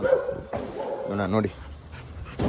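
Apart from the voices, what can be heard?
dog barking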